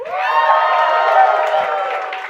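A crowd at a charity fundraiser gala cheers and whoops loudly and steadily for a couple of seconds, a dense wall of voices with no single speaker standing out.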